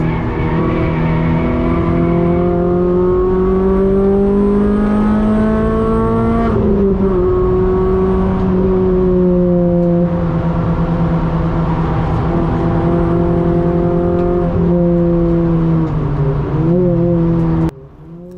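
Renault Clio 200 track car lapping Brands Hatch circuit, its engine loud and continuous in close onboard sound, pitch rising and falling through gear changes with steady harmonic drone, no talk.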